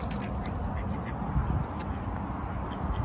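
Peggy, a young pet duck, quacks close up in short raspy bursts over a dense, rough background noise.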